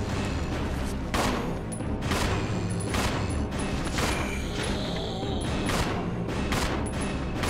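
Gunfire in the video game Resident Evil 0, a loud, close run of repeated shots at a fairly regular pace over dense game noise, no talk.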